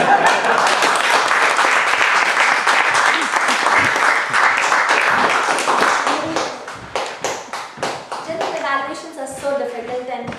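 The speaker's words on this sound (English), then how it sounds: "Please give a round of applause." Loud, sustained applause from an audience at a talk, dense clapping filling the room before thinning into scattered claps, with voices talking underneath toward the end.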